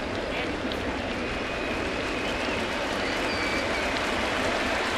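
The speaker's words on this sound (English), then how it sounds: "So Andy's going to get a very nice hand from the crowd." Stadium crowd at a Yankee Stadium baseball game applauding as pitcher Andy Pettitte leaves the mound, a steady, dense wash of clapping and cheering filling the whole stretch with no voices standing out.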